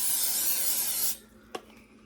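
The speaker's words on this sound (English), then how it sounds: "I'm going to just spray it with some Pam" A steady, loud hiss of cooking spray sprayed into a crock pot lasts about a second, then stops; a single short knock follows in the quiet.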